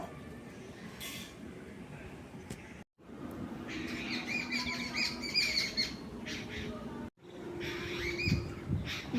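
Birds chirp faintly in short intermittent bursts over a steady wash of outdoor background noise on a rainy day beside a field.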